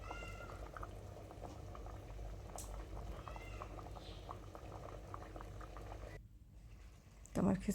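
Khichuri of rice, lentils and beef boiling in a pot of water, a soft steady bubbling close by, with a brief thump near the end.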